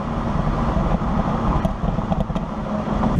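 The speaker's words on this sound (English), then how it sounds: "they basically had like a burble tune from the factory" Ford SVT Focus with its factory burble exhaust tune, a steady low rumbling drone at close range with a few crackling pops toward the end, no voices.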